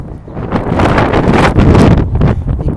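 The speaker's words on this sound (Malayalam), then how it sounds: "അതുപോലത്തെ ഒരു കാറ്റാണ്." Strong sand-laden wind buffets the microphone outdoors in Fahaheel, Kuwait, a loud, continuous roaring rush with gusty surges.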